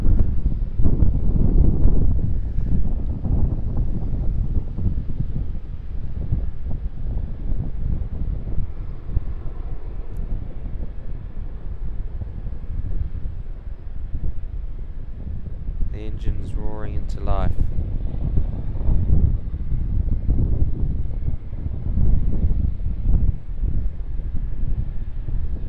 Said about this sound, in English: Qantas 73, our first takeoff on 16 right from this angle.